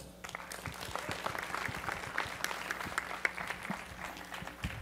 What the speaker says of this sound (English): So please, everyone, give a big round of applause to Philip Rosedale.